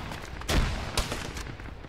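A frag grenade goes off in the Arma military game with a sharp, fairly close blast, and a second smaller thump follows about half a second later against steady background noise.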